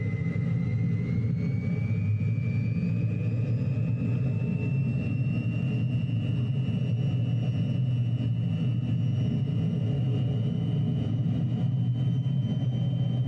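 Inside a flight simulator, an aircraft engine throttles up as a steady, loud low drone with a thin whine that slowly climbs in pitch and never lets up.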